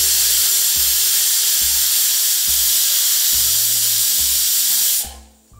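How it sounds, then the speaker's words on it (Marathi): A pressure cooker cooking colocasia leaves lets off a loud, sustained hissing whistle of escaping steam over a regular pulsing rattle of the weight, then cuts off abruptly near the end. "आता एक दोन शिट्ट्या दिल्या किंवा एक शिट्टी दिली तरीसुद्धा आपली भाजी पटकन शिजली जाईल।"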